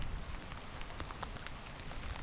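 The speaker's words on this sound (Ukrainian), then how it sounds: "Забулькало все, накрило дощем." Rain falling during spinning fishing outdoors, a dense steady patter of drops striking surfaces and water close by, with brief sharper drips and light wind mixed in.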